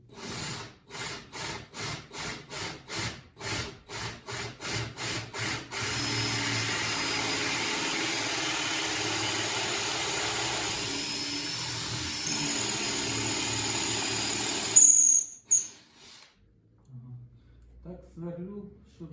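A drill bores into sapele wood for a knife handle: a run of rhythmic pulses gives way to a steady grinding whir that cuts off near the end.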